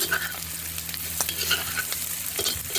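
Grated cabbage fries in a pan while a spoon stirs it now and then, a soft steady sizzle with light scraping clicks, close by and quiet, with no speech.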